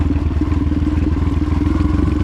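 A trail bike engine, either a Kawasaki KLX140 or a Honda CRF250R, runs close and loud with a steady, rapid low-pitched throb and a mechanical clatter at an even idle-to-mid speed, heard alone.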